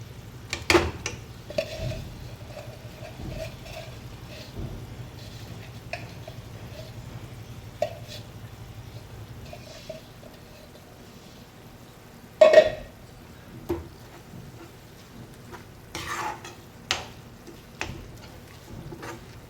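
Finely chopped onion for homemade Schezwan chutney is stirred in a pan: scattered light scrapes and utensil clinks against the pan at irregular intervals, with a few louder knocks and a low steady background.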